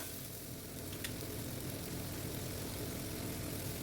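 Ginger-cumin paste masala fried in a pan for a potato and pointed gourd curry, a steady broad hiss of sizzling oil that holds at an even, fairly soft level throughout, with one brief faint click.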